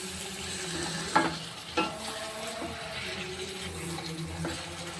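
Prawns fry and sizzle in a pan for a Tamil-style prawn curry, releasing their own water, with steady hissing and a couple of sharp stirring knocks, close and moderately loud, no talk.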